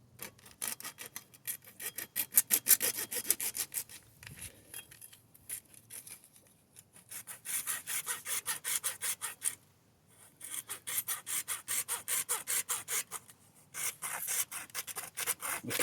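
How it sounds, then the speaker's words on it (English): A hacksaw cuts a Subaru WRX STi plastic splash guard with fast, steady rasping back-and-forth strokes, recorded close. The strokes come in several bursts with short pauses between them, and there is no talk. "I'm going to lay the hacksaw flat on this piece here."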